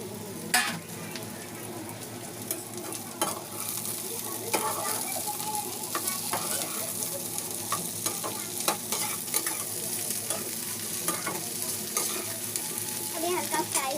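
Radish frying with sautéed onions in a pan, a continuous close sizzle broken by frequent scraping and stirring strokes and small clinks.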